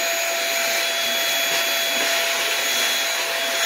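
A PrettyCare W400 vacuum cleaner runs at boosted suction, giving a loud, steady, close-up motor whine with a constant rushing airflow and no pauses.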